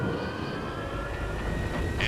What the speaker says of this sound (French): Démarrage des turbines.